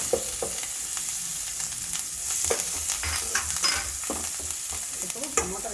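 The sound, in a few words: ginger garlic paste and turmeric frying in oil, stirred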